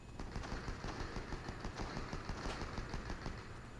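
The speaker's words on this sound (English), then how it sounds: "now I'll start hearing some gunshots over in this direction. So I'm running towards the gunfire" Continuous rapid gunfire in the video game Fortnite, dense automatic bursts from a distant firefight, steady and fairly faint with no talk over it.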